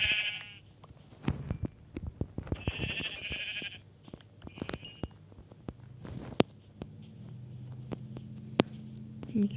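Sheep bleat in the Minecraft video game. Several short, nasal bleats come in separate bursts, some overlapping, over scattered sharp clicks and soft thuds, with quiet gaps between them and no talking.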